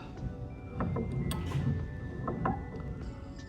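A golf club shaft is clamped into a bench vise and cinched down, giving scattered metallic clicks and ratcheting creaks at close range over a low room hum.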